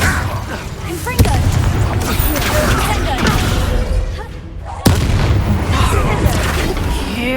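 Spell explosions boom repeatedly in the game Hogwarts Legacy, including Confringo blasts, with heavy thuds and sharp cracks over continuous combat noise and a player's shouting voice.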